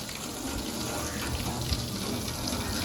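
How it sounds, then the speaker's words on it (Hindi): Water pours and splashes steadily onto a muddy gate being washed down, a continuous hiss of running water like a hose or tap with no talking. "गेट की बारी आ गई है जी। अब उसको धो रहे हैं।"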